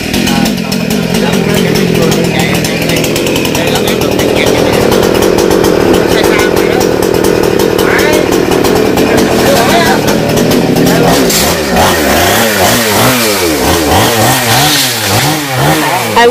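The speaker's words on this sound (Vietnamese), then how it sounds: "cưa bỏ cây dừa này" A chainsaw cuts down a leaning coconut tree in the Mekong Delta of Vietnam, its loud engine droning steadily, then revving up and down in repeated rising and falling surges near the end.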